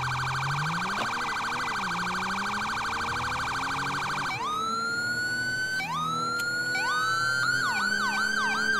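An emergency vehicle siren from the video game GTA 5 wails loud and continuous, first as a steady electronic tone and then shifting into rapid rising yelps, with no talking over it.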